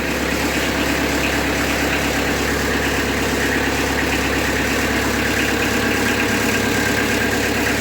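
Kubota B3000 compact tractor with a blower attached, its engine running steadily while backing off a skid, a constant loud mid-pitched drone with no breaks and no voices.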